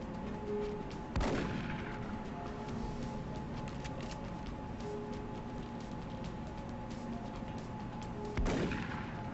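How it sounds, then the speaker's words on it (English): Assault rifle fire in the video game Long War: two loud, sharp bursts about seven seconds apart stand out over a steady background hum of game ambience. "Back to the assault rifle."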